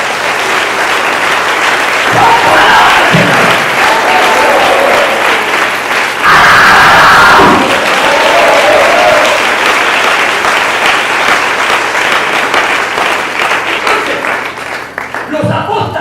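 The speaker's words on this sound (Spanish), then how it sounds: "Den un aplauso al Señor." A church congregation bursts into sustained, loud applause that fills the room, swelling and continuing steadily with a voice speaking over parts of it.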